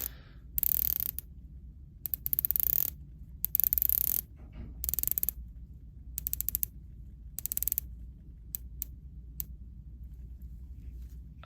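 Bezel of a new Breitling Superocean watch being rotated, giving sharp, close ratcheting clicks in about a dozen short bursts of rapid ticks, each separated by quiet pauses over a low, steady background hum.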